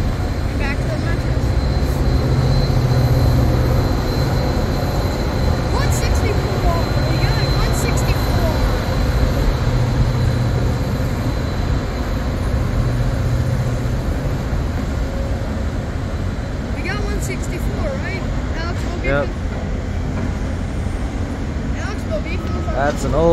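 A commuter train with an old cab car passes, its broad rumble and rail noise continuous throughout, with a few faint clanks and people talking over it.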